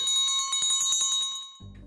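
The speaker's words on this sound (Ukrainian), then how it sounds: "Бурмило Михайлович закалатав у великий лісовий дзвоник." A large school bell in a forest school rung in a rapid, steady series of bright metallic strikes, loud and close, ending abruptly as other sound begins.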